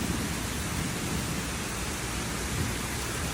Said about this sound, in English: the lightning and the thunder were at the same time